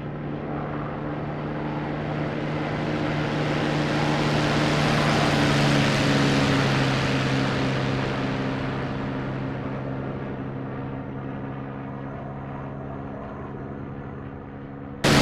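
Propeller fighter planes in the combat flight game IL-2 Battle of Bodenplatte, such as the P-47D Thunderbolt and Bf 109K, drone steadily with a deep engine hum that swells loudly as one passes close, then fades into a sustained distant roar.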